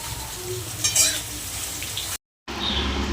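Sliced onions, about a kilo, roasting in a pan alongside whole spices for chutney: a steady close-up sizzling crackle with light scraping, broken by a brief moment of silence before the frying resumes.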